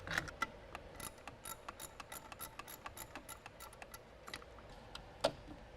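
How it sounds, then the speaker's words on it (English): Faint ratcheting clicks from a 10mm wrench loosening the bolt on a hybrid vehicle's battery cable, a quick run of light metallic ticks repeating steadily with a sharper click near the end. "So I've got a 10mm wrench. I'm going to go ahead and start to remove that bolt right now to get that unplugged."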